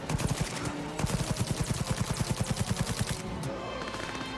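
Gunfire in the video game Cyberpunk 2077: rapid automatic bursts with evenly spaced sharp shots, loud and close, running for about three seconds before stopping.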